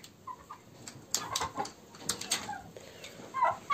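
Chickens in a farmyard coop cluck and murmur softly at close range, with scattered sharper calls and light rustling against a quiet background.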